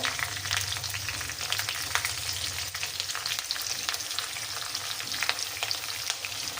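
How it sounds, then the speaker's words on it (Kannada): Curry leaves, chana dal, urad dal, peanuts and green chillies sizzle and crackle in hot oil for lemon rice, a steady close frying hiss with stirring, no voices. "ಆಮೇಲೆ ಕರಿಬೇವು ಹಾಕ್ತೀನಿ, ಪಟ ಆಗುತ್ತೆ."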